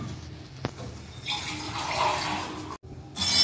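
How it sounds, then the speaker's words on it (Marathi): About one and a half glasses of water are poured into a Marathi drumstick pod curry, a close, splashy gush of liquid after a small knock, briefly stopping and then resuming. "आम्ही याच्यात अजून पाणी टाकलं एक्स्ट्रा."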